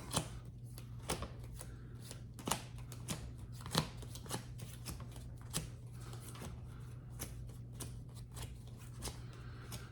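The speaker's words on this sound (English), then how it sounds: "until I shuffle the other deck. So we'll do that now." A deck of cards is shuffled repeatedly, with quick riffling snaps and soft flutters close by, quiet and steady.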